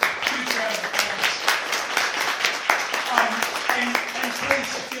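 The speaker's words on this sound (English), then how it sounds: "huge round of applause" An audience at a political talk in Christchurch applauds with a dense, continuous patter of clapping, while a voice speaks over it.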